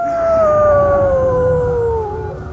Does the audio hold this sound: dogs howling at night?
yes